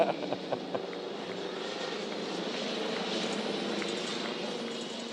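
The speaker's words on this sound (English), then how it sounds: "You can hear the helicopter." A steady helicopter drone hums continuously at moderate distance over a college baseball game, with a few faint knocks near the start.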